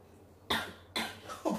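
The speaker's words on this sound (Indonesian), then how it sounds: "Kok batuk dia?" Someone coughs after eating double-spicy Samyang ramen, giving three sharp coughs about half a second apart, close and fairly soft against a quiet room.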